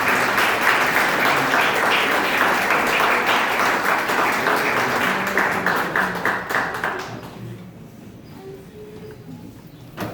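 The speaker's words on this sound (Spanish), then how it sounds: "le recibimos con un fuerte aplauso" A crowd at a writers' gathering gives a speaker a strong round of applause, dense steady clapping that stays loud for several seconds before tapering off into near quiet.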